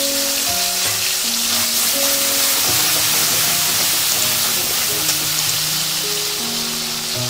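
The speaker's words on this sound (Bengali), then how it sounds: "ফোড়নটাকে তেলের মধ্যে একটু নাড়াচাড়া করে ভেজে নিচ্ছি" Whole cumin seeds and tomato paste sizzle and fry steadily in hot oil in a pan, a dense continuous crackling hiss with occasional stirring, close and loud throughout.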